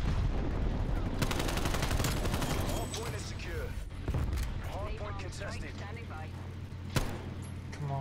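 Rapid automatic gunfire and single shots in a Call of Duty league match, dense bursts early then scattered cracks with one sharp shot late, under excited player talk.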